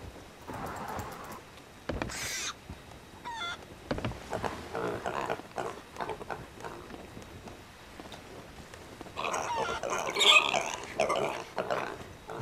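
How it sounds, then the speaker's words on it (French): Pigs in the pirate video game Sea of Thieves give short, faint grunting oinks scattered among soft game ambience and brief clatter, fairly quiet throughout. "faut que je surveille aussi les cochons"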